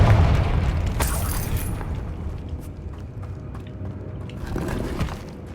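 A Confringo fire spell bursts in Hogwarts Legacy, opening with a heavy boom that settles into a dense, rumbling roar of crackling debris and combat noise, steady and loud throughout.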